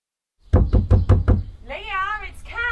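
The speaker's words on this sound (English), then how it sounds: "Leah, can you hear me? Open the door" Five loud, evenly spaced knocks on a door, close by, followed by a voice calling out.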